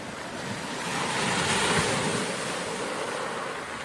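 Turbulent, wind-driven sea waves pounding the northeast coast of Aruba by a limestone natural bridge, a continuous roaring wash of surf with steady wind noise across the mic, swelling slightly in the middle.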